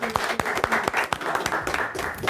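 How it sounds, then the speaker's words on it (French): A crowd at a freestyle rap battle claps for a couple of seconds, with distinct sharp hand claps standing out over a lighter scattered applause. "on peut continuer à les applaudir"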